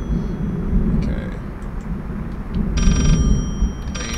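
A telephone rings in the horror video game Layers of Fear, two short bursts of ringing over a low, steady rumbling ambience.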